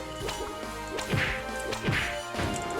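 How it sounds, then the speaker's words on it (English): In the game Koumajou Densetsu: Scarlet Symphony, the player takes heavy damage: a series of heavy whacking impacts with crashing bursts, repeating every second or so over a busy game soundtrack. "That's the sound of me taking a lot of damage."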